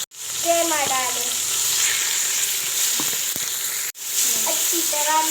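Minced meat sizzles loudly in a pan with tomatoes and garlic-ginger paste, a steady close frying hiss with light scraping and a brief break partway through; a faint voice can be heard under it.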